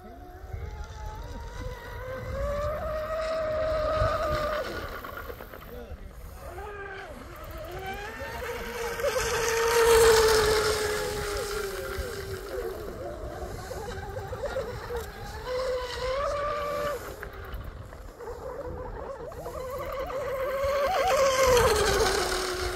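A 34-inch carbon fiber Oxidean Scorpion outrigger RC boat motor whines steadily across the water, its pitch rising and falling as the throttle changes, with occasional talk over it.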